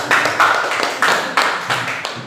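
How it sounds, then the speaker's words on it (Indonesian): A classroom of students claps briefly after a group presentation in a maths lesson, a short burst of several distinct near claps with a faint voice under them. "Tepuk tangan."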